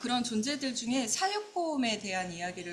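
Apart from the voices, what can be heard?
No everyday noises stand out.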